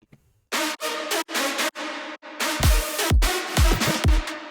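Synth chords in Logic Pro X with reverb held throughout, a series of short bright stabs whose tails smear together into a washy, muddy bed with deep booming low hits underneath, loud and alone.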